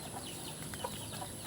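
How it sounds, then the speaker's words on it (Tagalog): Farm chickens cluck softly as they peck at their afternoon feed, a low, steady murmur of fowl with one or two slightly louder calls and no talking. "Yan ang mga alaga natin dito, mga ka-farmers, na mga manok."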